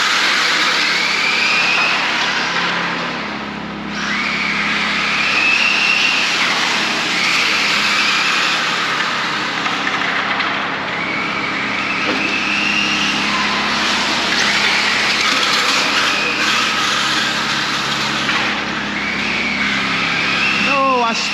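Demolition derby cars on a dusty dirt track, engines revving loudly and continuously at close range while cars spin out, with tire and engine noise rising and falling throughout.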